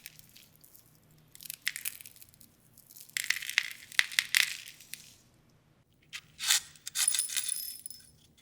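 Dried silica aerogel, hard and porous like crunchy glass, being crushed in several bursts of sharp, brittle crackling and crunching separated by quiet pauses, close and fairly loud.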